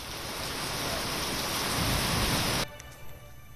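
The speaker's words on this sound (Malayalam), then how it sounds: "വൈകിട്ട് 4 മണിയോടെ തുടങ്ങിയ മഴ തിരുവനന്തപുരം നഗരത്തിൽ 1 മണിക്കൂറോളം തുടർന്നു" Steady rain pours during an evening downpour in Thiruvananthapuram city, Kerala, a dense continuous wash of noise that cuts off abruptly near the end, leaving a quieter background with faint tones.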